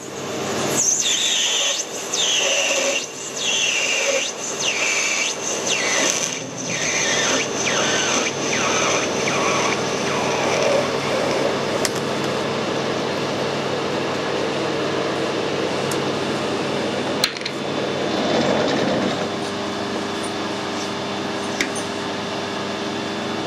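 A lathe parts off a dry nylon piece for a .22 bullet die, producing a steady machine whine with a series of rhythmic rising squeals and rubs from the cutting tool, loud and close throughout.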